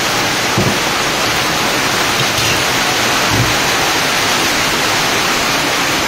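Heavy rain pours during a typhoon, a dense, loud, unbroken hiss that fills the whole stretch with no talk over it.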